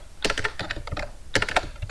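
Rapid typing on a computer keyboard while entering text in MS Project 2019, with dense bursts of clicking keystrokes, a short pause, and then more quick taps close up.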